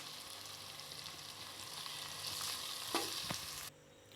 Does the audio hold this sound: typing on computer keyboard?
no